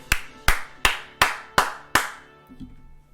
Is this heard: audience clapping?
yes